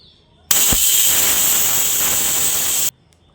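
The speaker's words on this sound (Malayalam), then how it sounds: "ഇനി നമുക്കിത് കുക്കർ അടച്ച് വെച്ചിട്ടൊരു 4 വിസിൽ അടുപ്പിച്ചെടുക്കാം" Pressure cooker cooking a creamy vegetable stew on a gas stove releases a sudden loud, steady burst of hissing steam, held for about two and a half seconds before stopping sharply.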